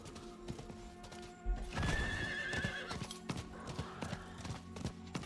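Steady clip-clop of hooves in Diablo IV, broken by a loud horse whinny partway through, then the hoofbeats carry on at a trotting rhythm.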